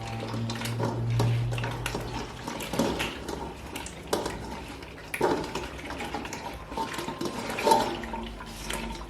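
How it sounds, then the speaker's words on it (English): Sorrel is added to a pot of liquid to make a traditional Jamaican sorrel drink, producing close sloshing and splashing water with a few clinks from the pot. "now I'm gonna add the sorrel to it"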